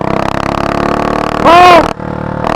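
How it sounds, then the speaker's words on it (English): A Predator 224 engine on a billet motorized bicycle drones loudly and steadily for a couple of seconds, with a brief sharp tonal burst near the end and a short dip before the engine returns. "I don't want to rev it too high yet. That is so loud."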